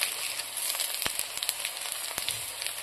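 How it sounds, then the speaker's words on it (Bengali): Chopped ginger, cumin and spices sizzling in hot oil for a vegetable curry, a dense continuous crackling hiss with scattered sharp pops, close and steady throughout. "দেব আমি আদা কুচি, এখন আমি দেব সাদা জিরা আর ফোড়ন একসাথে।"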